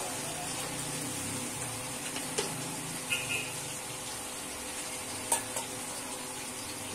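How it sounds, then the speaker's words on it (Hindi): Spices being stirred into chicken in a cooking pan, heard as a quiet continuous sizzle broken by a few soft scraping clinks of the spoon; no voices. "अब इन मसालों को पूरे अच्छे से मिला लेंगे।"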